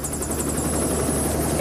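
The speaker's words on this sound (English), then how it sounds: "Will you get back into the helicopter, Annie?" A helicopter on a treasure-hunt outing in West Yorkshire gives a steady, close rotor and engine roar that fills the whole moment with a continuous, even drone.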